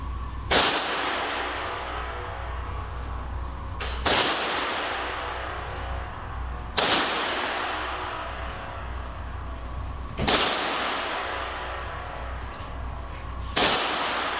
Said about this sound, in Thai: พี่แฟรงค์ยิงที่40 เมตรนะคะ